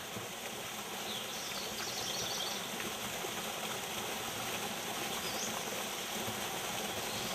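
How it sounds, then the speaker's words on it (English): Steady rushing water flows by a pool, filling the air with a constant broadband wash like a stream or small falls nearby, with faint insect or bird sounds on top. "listen to the music of the water"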